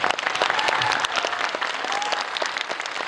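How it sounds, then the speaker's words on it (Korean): A film screening audience breaks into steady applause, a dense wash of clapping from a large crowd that holds for several seconds without letting up. "여러분들 박수 한번 크게 부탁드리도록 하겠습니다"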